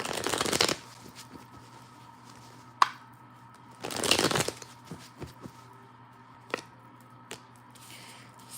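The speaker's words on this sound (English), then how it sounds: "All right, I'm only going to pull a couple cards from here." Tarot cards are shuffled and pulled from a deck in a few loud riffling bursts with quieter single card flicks and taps between them, close up and with no talking.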